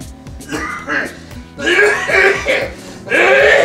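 An old man coughing repeatedly in harsh, rough bursts at close range, mixed with voiced throaty sounds, in a Bangla drama scene.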